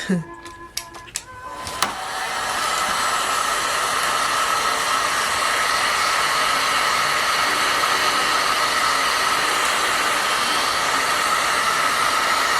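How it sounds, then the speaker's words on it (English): A heat gun starts after a few clicks and handling knocks, then blows in a steady, loud, even roar for about ten seconds while cleaning wax off a small spatula. "I'm going to clean mine off with the heat gun."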